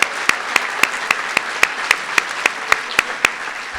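At a high school senior awards night, clapping for scholarship donors and presenters comes as crisp, evenly spaced claps in a steady rhythm, like only a few pairs of hands, over a low hum.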